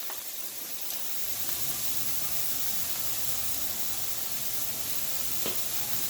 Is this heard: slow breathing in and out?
no